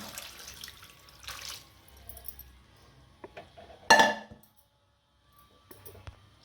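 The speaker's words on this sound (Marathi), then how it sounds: "परत आपण गाळून घेऊ" Boiled noodles tipped into a strainer: a short burst of splashing, draining water with a sharp metallic clink of pots, set among quieter kitchen clatter and handling sounds.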